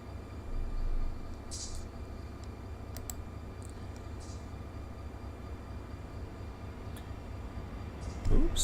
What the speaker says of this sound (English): Oops, got a train going by.